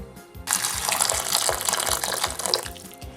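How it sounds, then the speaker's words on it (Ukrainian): Hot water pours steadily over raisins in a container, a continuous splashing rush starting after a brief quiet moment and running to the end. "Родзинки заливаю гарячою водою"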